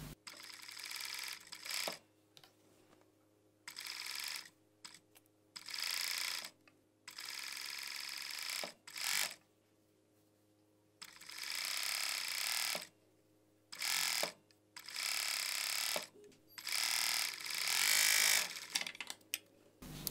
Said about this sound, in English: I'm serging the side seam.